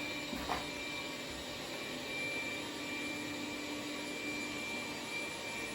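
A Dreame Z10 Pro robot vacuum runs steadily across the floor, giving a constant, fairly quiet whirring hum with no talk.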